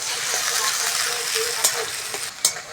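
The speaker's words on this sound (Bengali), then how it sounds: "পেঁয়াজটা ভালো করে ভেজে নেব" Onions frying in a pan while a vegetable curry is cooked, giving a steady broadband sizzle with a few sharp clicks of stirring, close and moderately loud, with no talk.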